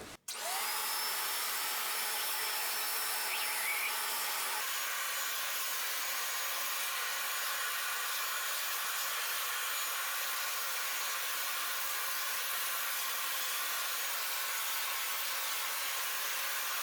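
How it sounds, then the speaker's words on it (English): A backpack vacuum cleaner fitted with its brush attachment runs steadily while cleaning a ceiling fan, giving a loud continuous motor whine and airflow rush that holds unchanged from start to finish, with no talking. "Brush attachment comes with the backpack vacuum cleaner, and then we're just going to simply vacuum the fan."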